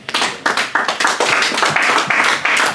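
Church congregation clapping in an irregular series of sharp bursts, close and loud, filling the space in quick rhythmic waves of applause.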